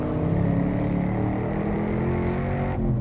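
A 2013 Chevrolet Camaro SS 1LE muscle car in a power slide, its engine holding a loud, steady roar with a brief high tire squeal partway through, close and continuous.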